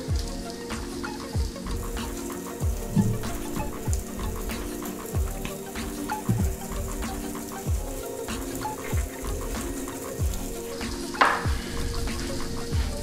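Bread cooks on a hot griddle with a steady soft sizzle and scattered crackling pops, faint and continuous for several seconds with no talk.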